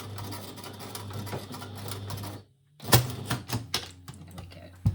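A sewing machine runs steadily while back stitching over a dress neckline, then stops briefly before a few short bursts and clicks as it reverses over the last stitches, close and clear.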